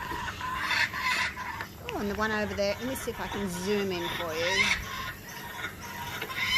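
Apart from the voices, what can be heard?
birds calling, baby bird begging parent for food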